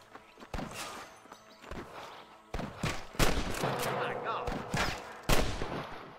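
Gunshots ring out in Red Dead Redemption, a handful of sharp cracks spread irregularly over several seconds at moderate distance, with rustling movement and a louder close shot near the end.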